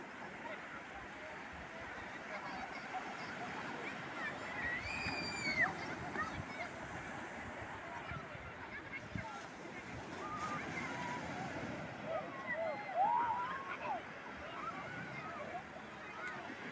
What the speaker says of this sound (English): So you can see the waves also coming.